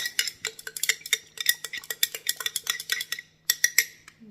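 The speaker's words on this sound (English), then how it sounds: "I'm going to mix it up." Salmon and quinoa salad with herbs tossed in a bowl, with rapid clinking utensil strokes against the container in a busy, uneven rhythm, close and loud, briefly pausing near the end.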